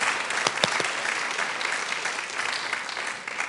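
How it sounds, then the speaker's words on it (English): An audience at a junior school prize giving claps in a steady, full round of applause for singing girls, dense and even throughout, easing slightly at the end. "Should we give them another big round of applause?"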